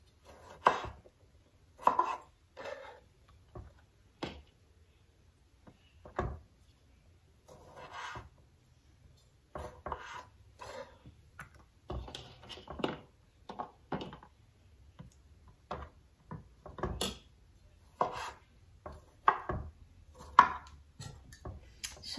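A knife slices jeune flamme French tomatoes on a board, giving many crisp, irregular cuts close by that quicken toward the end, alone without talk.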